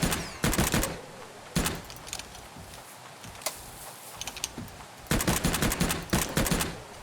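Gunfire from the dinosaur survival game Oooga Booga, loud rapid bursts fired in short volleys separated by quieter gaps, with a final long sustained burst near the end and no talking.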